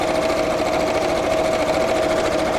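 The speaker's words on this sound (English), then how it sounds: "I'm sewing and not showing you what I'm doing" A sewing machine stitches fabric for bunting and Santa sacks, a loud close steady mechanical whir with a fast even rattle that runs without a break, with no talking.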